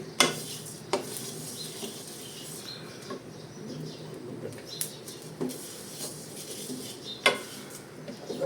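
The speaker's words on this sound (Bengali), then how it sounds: "এটাও ভাজা প্রায় শেষ হয়ে গেছে, শব্দ পাচ্ছেন" A sweet fishing-bait mixture fries in a pan with a soft, low sizzle, broken by scattered stirring scrapes and clinks of a utensil against the pan, alone with no talking.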